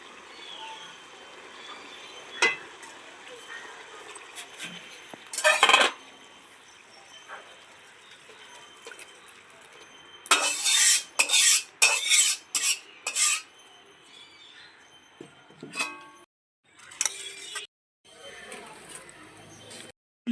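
A metal pot of spinach paneer curry comes off a kitchen stove with scattered clanks and scrapes of metal on metal, a cluster of sharp knocks in the middle, over quiet background and occasional talk.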